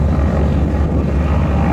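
A World War II primary trainer propeller plane passes in flight during a formation landing, a loud, steady buzzing drone with no one talking over it.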